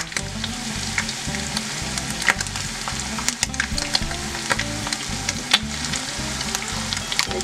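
Tacos dorados filled with shredded beef fry in medium-high hot oil, giving a dense, continuous sizzle with scattered crackles and pops, close and steady throughout.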